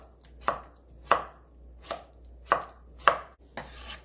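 A knife slices cucumber diagonally on a cutting board, giving six crisp, separate thunks at an unhurried, even pace, close and clear in a quiet room.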